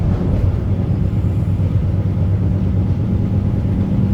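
Steady low rumble of riding aboard a Gyeongchun Line passenger train, a constant close drone of wheels and carriage with no talk.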